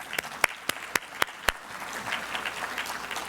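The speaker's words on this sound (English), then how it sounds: "I'd just like to give the panel members a round of applause again." An audience applauds panel members at a talk, starting with a few sharp, separate claps that quickly swell into steady, moderately loud applause filling the room, with no voices over it.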